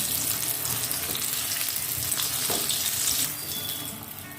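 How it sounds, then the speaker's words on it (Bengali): Eggplant slices fry in hot oil for a Bengali sahebi begun dish, a steady close hissing sizzle that fades slightly toward the end. "বাকি বেগুন কটাও আমি একই রকমভাবে ভেজে নিচ্ছি।"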